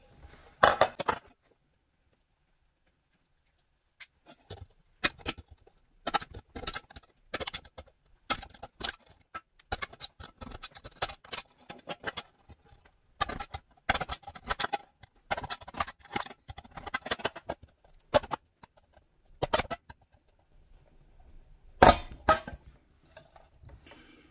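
Metal can ribs being cut apart to build a hobo stove give a run of sharp, irregular clicks and snips, close and fairly crisp, with quiet gaps between bursts and no talking.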